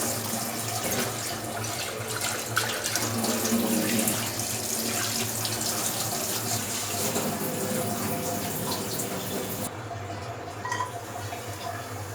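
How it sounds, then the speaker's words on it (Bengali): Boiled noodles rinsed under a running kitchen tap, water streaming steadily into a sink for the whole stretch, close and fairly loud, easing off briefly near the end. "নুডলসটা এখন পরিষ্কার করে নেওয়া হচ্ছিল সিদ্ধ করা নুডলসটা"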